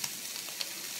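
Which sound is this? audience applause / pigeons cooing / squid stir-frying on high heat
squid stir-frying on high heat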